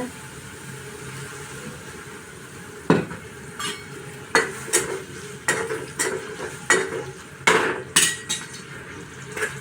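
Chopped onion and whole spices such as coriander and fennel fry in plenty of oil in a kadhai for chicken curry, with a low sizzle under repeated sharp metallic scrapes and knocks of a stirring spoon against the pan.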